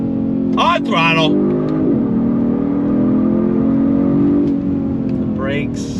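A loud, close 2023 Genesis G70 engine pulls under throttle, pitch rising and settling with a gear change, a sustained mechanical drone.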